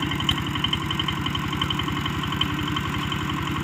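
A farm tractor engine runs at a steady idle while backing up, with a loud, even chugging pulse and a faint metallic knock throughout; no voices are heard.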